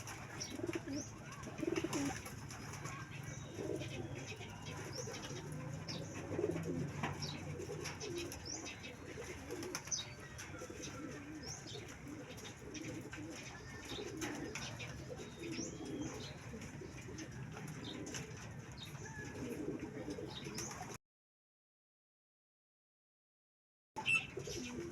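Soft, low racing pigeon coos repeat in the background at a pigeon derby in Tagudin, Ilocos, over a steady outdoor hum, with occasional faint chirps, before a brief silence.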